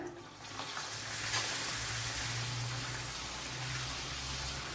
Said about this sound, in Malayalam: നമ്മൾ കട്ട് ചെയ്ത് വെച്ചിരുന്ന പപ്പടമൊക്കെ ഓയിലോട്ടിട്ടൊന്ന് ഫ്രൈ ചെയ്തെടുക്കാം.